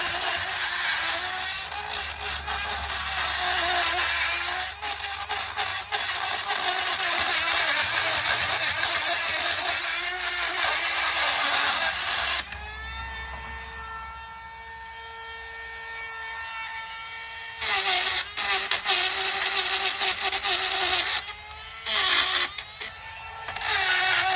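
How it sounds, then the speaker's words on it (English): A Dremel rotary tool cleans out the brake pad grooves during a Kia Soul rear brake pad job, with a steady, loud, high grinding buzz. Midway the grinding drops to a cleaner, fainter motor whine, then resumes in harsh bursts. "I'm gonna take my favorite Dremel tool, and we're gonna clean this out"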